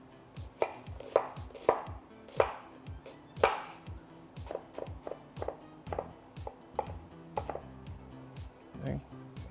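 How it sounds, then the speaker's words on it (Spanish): A kitchen knife chops an onion into small squares on a cutting board with rhythmic, close, thudding strokes, quick runs of chops separated by short pauses, with no talking over them. "si usted quiere unos cuadros más pequeños, puede dividir la cebolla, así"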